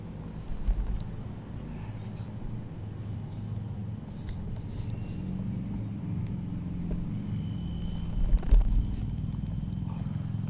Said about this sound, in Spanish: las motos están pasando por aquí, por fuera